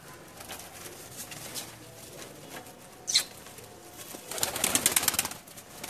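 A Teddy pigeon with yarkan eyes flaps its wings in a short burst of fluttering beats near the end, after a brief sharp rustle, against quiet surroundings.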